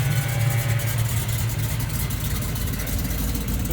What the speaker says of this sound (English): If you're interested in what a cool car sounds like.